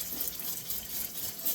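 A continuous airy hiss of water sprayed over the leaves of a lucky bamboo plant, close and fairly soft, steady for the whole short moment.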